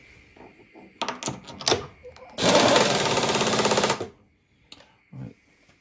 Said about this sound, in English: load it into the milling machine, and then I can actually show you the wobble that you get